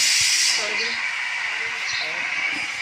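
Lentils boiling in a pressure cooker as dal, giving off a steady steam hiss close by, with a voice talking over it.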